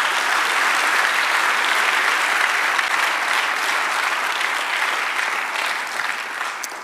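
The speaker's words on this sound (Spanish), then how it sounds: "Dale un aplauso al Señor, aleluya." Congregation applauding during a church service, dense sustained clapping from many hands that fills the space and slowly tapers toward the end, with no voices over it.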